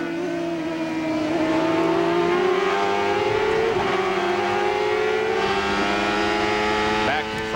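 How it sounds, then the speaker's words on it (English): 1995 IndyCar race cars at speed at Road America, climbing a hill with a sustained, loud high-pitched engine whine that rises and shifts in pitch, heard continuously from onboard. "From Michael Andretti's car as they climb the hill"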